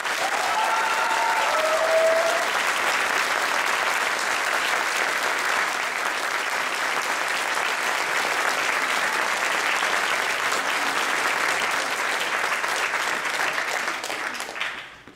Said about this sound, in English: Everybody, a big round of applause for Tanya.